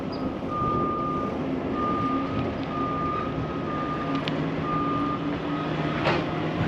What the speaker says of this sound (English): I was wondering if that was my bike making that noise. No, it's a excavator there.